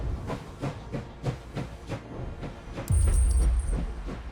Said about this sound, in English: let's start the train again.